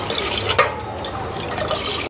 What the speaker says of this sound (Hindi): ये देखें अभी बस ये ठंडा पानी है, ये डाल देते हैं